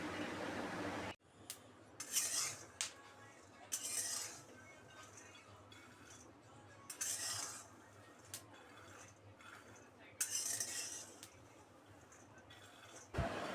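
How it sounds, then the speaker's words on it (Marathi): Peanuts dry-roasting in an iron kadhai while being stirred, giving scattered clinks and scraping rattles over a steady low background, with louder bursts of clatter as the nuts are turned. "आपल्याला आणखीन दोन ते तीन मिनिट भाजून घ्यायचे आहे शेंगदाणे"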